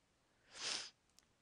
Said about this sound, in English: I got a little bit of the sniffles